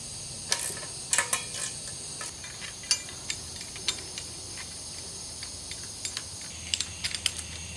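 Two tight 10mm bolts removed from the belly pan of a Kawasaki Z900 motorcycle, heard as scattered faint metallic clicks and ticks from a ratchet over steady background hiss.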